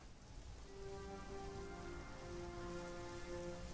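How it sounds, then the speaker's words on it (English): Steady rain fills the soundscape of the space-race strategy game Mars Horizon, a continuous hiss with soft tonal hums layered beneath, even and unbroken throughout. "It's raining again."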